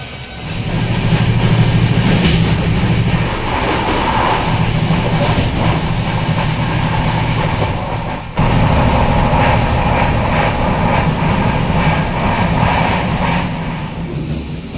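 Train pulling out of Cuttack railway station at night, a loud, steady rumble of rolling wagons and engine with rhythmic clatter that runs continuously, briefly dipping midway, with no talking.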